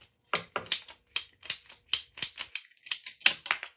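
A ratcheting pipe cutter clicks in a rapid series of sharp, close ratchet strokes, about a dozen in a few seconds, as it tightens down on a condensate drain pipe; no talk.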